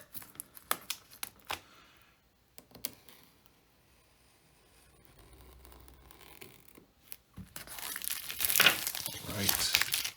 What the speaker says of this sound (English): Very careful as we cut through the shrink.